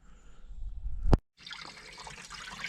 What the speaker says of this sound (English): Okay, the water is turned on, it is flowing.